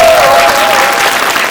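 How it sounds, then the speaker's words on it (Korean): Loud, steady applause from a large audience at a documentary film screening fills the space without pause. "뜨거운 박수로 맞이해주셔서 감사합니다."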